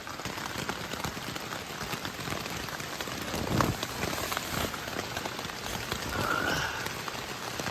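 Rain falls on a tent as a steady, even patter with no voices, swelling slightly in places.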